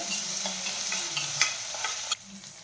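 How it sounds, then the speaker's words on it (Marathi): Onions and fresh peas sauté in a pan for samosa filling, a steady soft sizzle with occasional stirring scrapes and clinks, close and continuous without talk. "कांदा आणि मटार आपल्याला इथे छान परतून घ्यायचा आहे"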